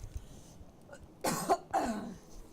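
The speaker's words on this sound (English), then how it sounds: "I'm sorry that I am coughing so much." Two harsh coughs in quick succession, close and fairly loud, with quiet background before and after.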